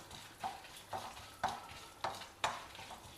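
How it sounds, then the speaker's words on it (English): Masala ingredients, cloves and peeled chopped ginger, frying in oil while being stirred, with rhythmic scraping bursts about every half second over a soft sizzle; no voices. "Now fry all these masala ingredients"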